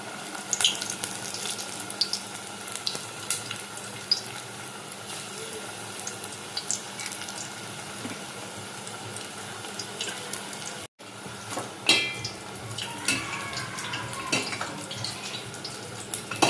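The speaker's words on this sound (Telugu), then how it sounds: "మనకి సరిపడా ఆయిల్లో డీప్ ఫ్రై చేసుకోవాలి." Spinach and sorrel pakodas deep fry in a pan of oil, giving a continuous bubbling hiss with scattered crackles and small pops, close by and fairly even in level.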